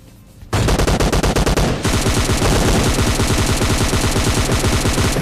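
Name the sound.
gunfire in PUBG Mobile Lite video game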